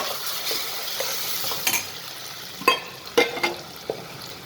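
Onion and tomato puree cook in a pan for spicy Schezwan pasta, a soft low sizzle broken by a few sharp spatula clinks and scrapes, close and brief, with no speech.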